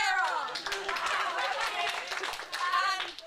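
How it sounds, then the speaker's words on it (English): Audience applause at a school staff-versus-student debate, brisk clapping from a room of people while speech carries over the top much of the time. "And on the negative, give a round of applause for Evelyn."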